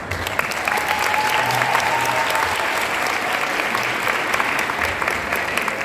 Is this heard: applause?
yes